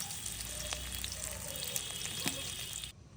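Onions and spices fry in a pan with a steady, dense sizzle and occasional faint stirring taps, continuing evenly until it cuts off near the end.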